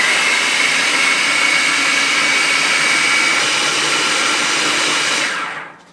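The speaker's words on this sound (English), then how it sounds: "we're going to put it on 1 and we're going to blend it for a full 3 minutes" A blender running on its lowest setting while blending hummus, a loud, steady whirring drone that holds close and unbroken for several seconds before spinning down at the end.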